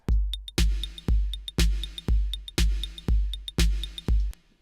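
Drum kit played through Logic's Space Designer convolution reverb on a normal setting: a steady beat of punchy kicks and snares with ticking hi-hats, each hit trailing a moderate room tail, loud and close with no voices.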